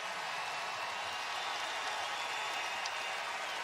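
A basketball arena crowd at a women's pro semifinal game roars steadily as fans stand and cheer a defensive stop, a dense, even wash of noise with no breaks.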